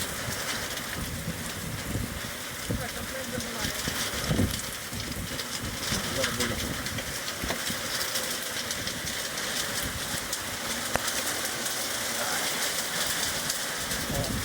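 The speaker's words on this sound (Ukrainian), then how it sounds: "Чуєте, як град падає." Hail pelts down in a heavy summer storm, heard through an open door as a steady, dense roar of hard impacts with scattered louder knocks, continuous for the whole stretch.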